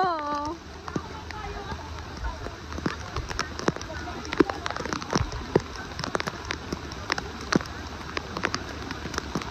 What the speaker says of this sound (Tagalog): Maulan na.